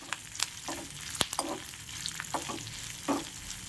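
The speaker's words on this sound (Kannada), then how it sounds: "ಹಾಗೆ ಕೆಂಪು ಮೆಣಸಿನಕಾಯಿ ಇವನ್ನು ಹಾಕಿ ಹುರ್ಕೊಳ್ಬೇಕು ಚೆನ್ನಾಗಿ" Red chillies and curry leaves being stirred and roasted in a hot pan, giving soft scraping stirs and a light sizzle in short bursts, close and fairly quiet with no talking.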